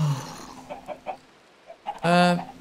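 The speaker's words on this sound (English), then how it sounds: "I don't know where your other chickens are gone." Chickens cluck in the video game Minecraft, a few short soft clucks followed by a louder, drawn-out squawk, fairly close.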